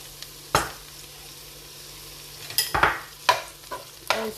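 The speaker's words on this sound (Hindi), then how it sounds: "और इसको मिक्स कर दूँगी इस प्याज और शिमला मिर्च के साथ" A spoon scrapes and stirs boiled chicken into onion and capsicum softened in a little oil, a few sharp scraping strokes at irregular moments over a faint low pan sizzle, close and clear, no talking.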